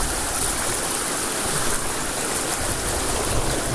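A river stream flowing steadily at Lalangawan River in Cavinti, Laguna, beside where rice is being washed; a continuous, full rush of water runs close and loud throughout, with no talk heard.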